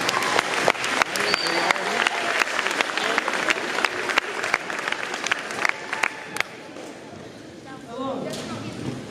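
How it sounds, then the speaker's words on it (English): A school assembly audience claps for the two 8th grade student emcees, dense close applause with a few loud individual claps that fades out and gives way to murmuring voices. "Let's give them a round of applause."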